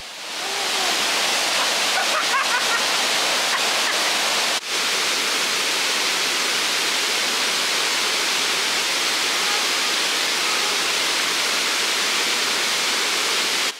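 The third tier of Limoli waterfall roars in a dense, continuous wash of falling water with strong flow, loud and unbroken throughout.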